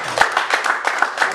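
A church congregation claps in steady rhythmic unison to acclaim the Lord during a worship service, several even beats of many hands close by.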